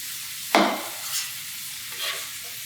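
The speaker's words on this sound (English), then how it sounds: "You saute it over a little bit, and then you want to add your baby spinach" Vegetables and baby spinach being sauteed and stirred in a pan, with one sharp clatter of stirring followed by a soft sizzle and a few lighter scrapes, faint and close, with no talking.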